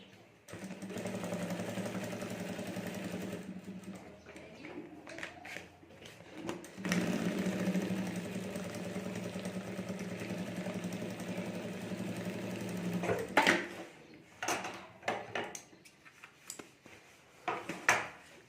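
A sewing machine run slowly with normal thread sews a clutch bag on fiber sheet, humming steadily in long stretches, with a brief pause midway, then stopping into scattered clicks and handling noises near the end.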